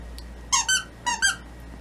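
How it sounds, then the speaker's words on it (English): A dog's rubber squeaky toy gives two quick pairs of squeaks, each pair a sharp double squeal, close and clear over a low steady hum. "Yeah, it squeaks."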